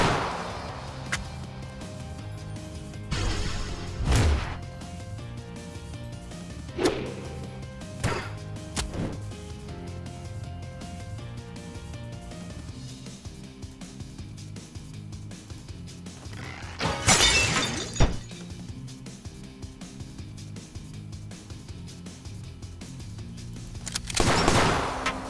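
Gunshots in the turn-based game Epic Battle Fantasy 5 ring out as sharp, widely spaced cracks and shattering impacts over a quiet musical background, with no talk.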